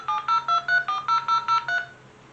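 A dial-up modem connecting to AOL internet sends out a quick run of about nine bright, evenly spaced dialing tones, loud and close, each beep a short steady pitch before the line goes quiet.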